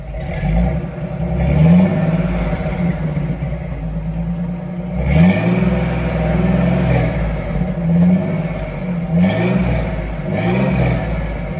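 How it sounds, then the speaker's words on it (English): Close up, a 1985 Jeep CJ7 engine idles with a rough rumble and is revved up several times, each blip climbing quickly and then falling back to idle. "Rev it. Go ahead and rev it."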